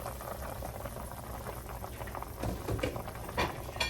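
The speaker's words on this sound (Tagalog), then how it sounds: "Ngayon, takpan na muna natin. Pakuluin uli natin." A pot of nilaga, Filipino meat soup with carrots and potatoes, boils on the stove with a steady, close bubbling that grows a little louder with sharper pops toward the end, no voices.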